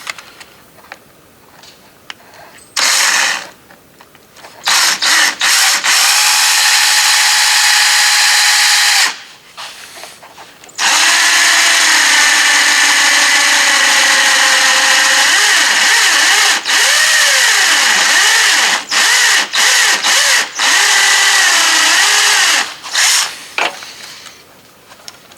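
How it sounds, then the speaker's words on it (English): A loud power drill whirs in several long bursts with short pauses between, its pitch wavering as it bites into plastic on a Jeep WJ rear hatch, close to the listener. "So I'm just going to drill a hole off to the side here."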